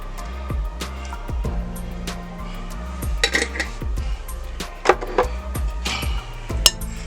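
Sweet pickle relish being mixed into a macaroni ham salad, with a spoon repeatedly clinking and scraping against a bowl in an irregular rhythm, close and moderately loud, with no talk.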